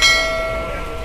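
Train at a railway station, with a brief bell-like tone ringing and fading over a low rumble.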